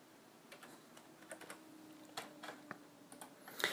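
Computer mouse clicks add waypoints to a custom flight route in Active Sky 2016, coming as a scattered series of soft, irregular clicks over quiet room tone.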